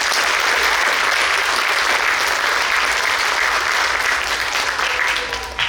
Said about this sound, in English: She needs a big clap.